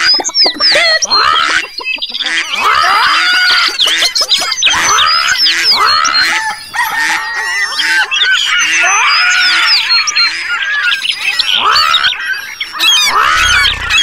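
Dense, loud birdsong with many overlapping chirps, whistles and honk-like calls that continue without a break, with no speech.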